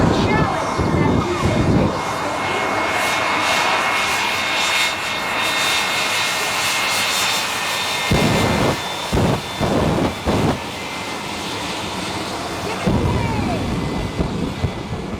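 A Messerschmitt Me-262 jet fighter, registration N262MF, roars past at a warbird airshow, a loud sustained jet rush rising and fading, while an announcer talks over it and crowd sounds come through.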